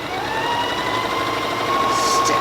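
A Janome Skyline S3 sewing machine runs a steady straight stitch, its motor giving a continuous close hum with a faint whine throughout and no pauses.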